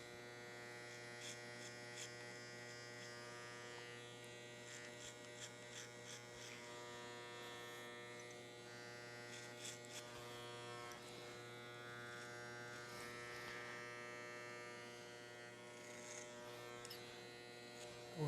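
Hair clippers run continuously during a men's short haircut, a steady close electric buzz with a strong motor hum and small shifts in tone as the blade moves through the hair, with no talking.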